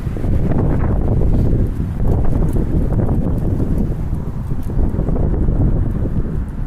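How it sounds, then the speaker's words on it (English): Heavy wind buffets the microphone continuously at an outdoor California camp, a loud low rumbling roar with gusty fluctuations throughout. "it's fucking windy as fuck"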